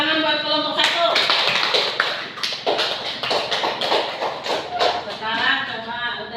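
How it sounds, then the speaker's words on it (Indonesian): A classroom of students claps for a student group, a burst of uneven hand claps lasting several seconds, fairly close and moderately loud, with some voices mixed in. "tepuk tangan buat kelompok 1."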